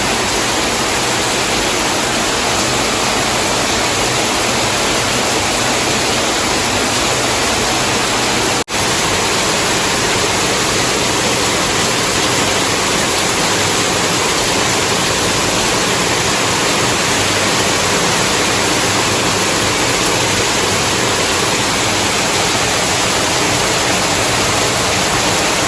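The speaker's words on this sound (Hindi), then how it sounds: "बालकनी गई तो पूरा बारिश बारिश हो रही थी" Heavy monsoon rain pours down outside a balcony in Kerala, a dense, steady hiss that stays constant throughout with no talking.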